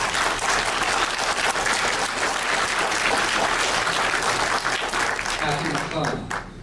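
Broad, even audience applause at an all-candidates election debate in RIM Park, filling the whole stretch before tapering slightly at the end.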